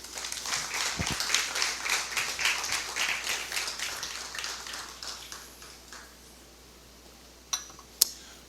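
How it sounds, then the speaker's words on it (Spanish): A church congregation claps and applauds for several seconds, then the sound thins out to a few scattered claps and knocks. "Denle un fuerte aplauso al Señor."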